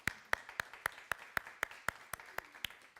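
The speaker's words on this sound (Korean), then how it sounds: "격려의 박수 한번 하겠습니다." At a Korean Presbyterian Sunday service, the congregation claps in encouragement for its returning evangelism team: a faint, steady run of evenly spaced claps with a quick, regular beat.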